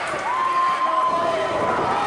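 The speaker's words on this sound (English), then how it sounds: "Willie Finesse getting the crowd hyped up." A wrestling crowd at a Halloween show cheers in a loud, continuous roar, with whistle-like tones rising through it and voices mixed into the din.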